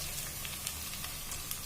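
Onions sizzle steadily in hot oil for a Kerala fish curry, a soft continuous frying hiss with faint crackles, close and quiet with no talk.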